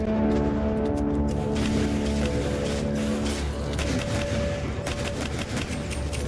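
Rapid bursts of gunfire from a Minecraft firearm mod fill the clip, dense fusillade-like shots layered over a steady background hum throughout.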